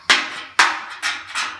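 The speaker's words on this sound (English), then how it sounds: "and then just a ton of hammering" Metal hammer strikes on a car fender body panel near a fuel door, four sharp ringing blows at uneven spacing, each decaying briefly, loud and close with no talk.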